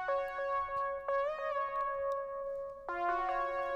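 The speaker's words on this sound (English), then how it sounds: "Now the lead is comprised of 2 separate leads that are layered together." Two layered synth leads, an Analog Basic patch stacked with a custom chip sounds patch, play a bright, sustained melodic phrase of a few held notes with bending pitch, clear and alone.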